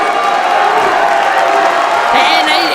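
A divided wrestling arena crowd roars continuously with cheers and whoops, loud and dense, while a commentator talks over the noise.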